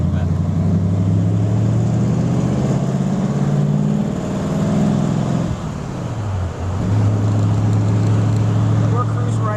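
A 1937 Ford two-door sedan cruises at comfortable revs, its engine a steady close low drone that dips briefly mid-clip, then settles back to an even hum over road noise.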